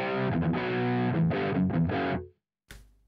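An electric guitar plays through a Boss Mega Distortion pedal: a few heavily distorted chords and notes ring loud and close, then cut off, followed by a brief final strum.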